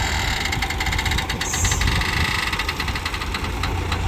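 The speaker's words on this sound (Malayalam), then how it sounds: "ഇതാണ് കിഴങ്ങ് പറിക്കണ മെഷീൻ" A tractor-drawn potato harvesting machine runs in a field in Haryana, its engine giving a steady, loud mechanical drone with a rattling, knocking texture throughout, no voices over it.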